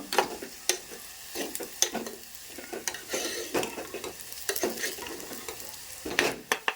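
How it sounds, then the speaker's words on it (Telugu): Bitter gourd pieces browning in hot oil, a moderate bubbling sizzle broken by repeated sharp scraping and stirring strokes, close and fairly quiet. "కాకరకాయలు అయితే బ్రౌన్ కలర్ వచ్చేసినాయి ఇట్లా మంచిగా ఆయిల్లో వేపుకోవాలి"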